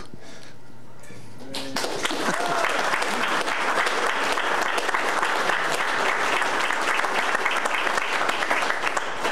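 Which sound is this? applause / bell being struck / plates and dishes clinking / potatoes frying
applause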